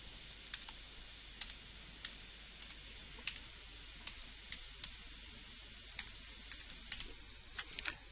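Fingers tap out a password on a computer keyboard, a sparse, quiet run of separate key clicks with short pauses, ending in a slightly quicker cluster of presses.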